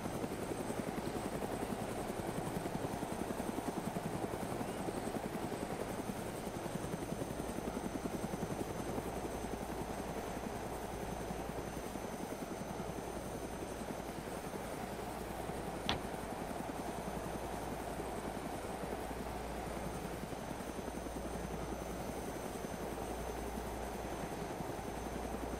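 Helicopter flying in the video game DayZ Origins, a continuous steady rotor drone that holds at an even loudness for the whole stretch with no voices over it.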